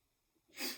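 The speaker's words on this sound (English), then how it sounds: "Sorry, I'm gonna sneeze." A single sneeze bursts out near the end after a quiet moment, close and fairly loud.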